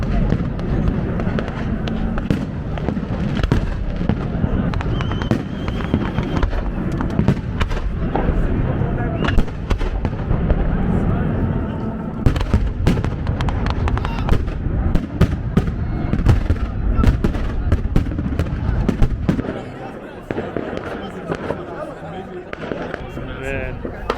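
Continuous booming and crackling Newroz fireworks in Akre, Iraqi Kurdistan, dense and loud, with people talking and chattering underneath throughout; the bursts ease slightly near the end.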